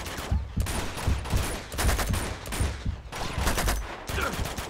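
Enemy gunfire in Uncharted 2 comes as rapid bursts of shots and clattering fusillades, loud and close, with brief gaps between volleys and no speech.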